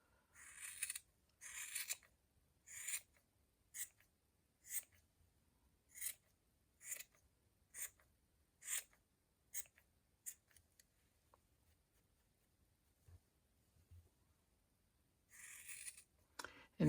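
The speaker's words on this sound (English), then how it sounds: "Cut these long strands first here." Scissors trimming loose strands of a yarn pom-pom, a series of crisp, close snips spaced about a second apart, then a pause and a final snip burst, with no talking.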